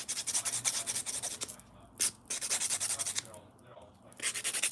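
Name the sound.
filing fingernails coated with rubber base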